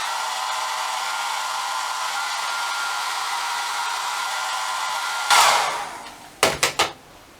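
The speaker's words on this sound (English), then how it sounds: "And then we're going to jump back to the blow dryer." A hair dryer blows with a steady whooshing hum, then cuts to short louder bursts as it is switched between settings before stopping.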